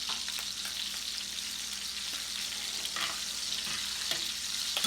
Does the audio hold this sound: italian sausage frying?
yes